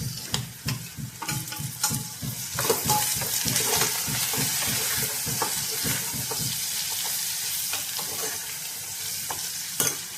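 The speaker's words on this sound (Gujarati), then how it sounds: "આ ફ્રાય કરેલો ભીંડાની સબ્જી ત્રણેયની ફેવરેટ છે" Crispy fried okra (bhindi) sizzles and hisses steadily in a pan, with a run of rapid stirring scrapes and clinks near the start that eases into a continuous sizzle, close and fairly loud, no voices.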